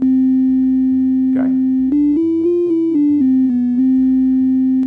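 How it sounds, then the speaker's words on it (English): A steady, pure sine-wave tone from a modular synthesizer oscillator, loud and continuous, stepping up and down in pitch across a few notes, with a brief spoken word partway through. "The first one is a sine wave."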